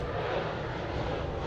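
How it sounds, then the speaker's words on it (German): A loud, steady roar of an airplane passing close overhead, broadband engine noise filling the whole moment with no voices. "da kommt das nächste Flugzeug"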